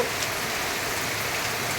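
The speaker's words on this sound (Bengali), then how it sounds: "এই বৈশাখ মাসে বৃষ্টি হচ্ছে" Steady rain pours onto areca palm trees during a Baishakh shower, a dense, even hiss of drops with no pauses and no voices.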